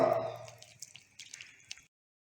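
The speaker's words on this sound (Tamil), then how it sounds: "இனி பேலன்ஸ் இருக்க தண்ணியும் இதில் எல்லாத்தையுமே ஊற்றி நல்லா நம்ம மிக்ஸ் பண்ணி விட்டுறலாம்." Water poured into a cooking mixture and stirred by hand, a close splashing pour that fades into soft, irregular drips and wet squishing before stopping.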